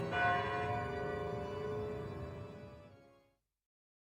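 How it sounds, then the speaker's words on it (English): Large bronze bells of Notre Dame cathedral in Paris clang together in a rich, dense peal, the tones ringing loudly and then decaying into silence after about three seconds. "Poppy jumps backward, loses her balance, and knocks right into the large Notre Dame bells"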